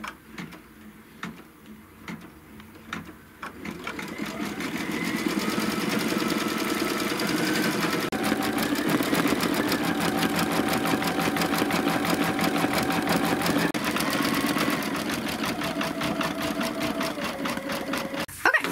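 An embroidery machine stitches a paisley flower design onto a belt bag. It starts with a few light ticks, then settles into a loud, steady, rapid mechanical whir and clatter that runs on without pause.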